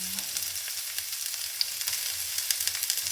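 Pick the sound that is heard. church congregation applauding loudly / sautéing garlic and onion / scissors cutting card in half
sautéing garlic and onion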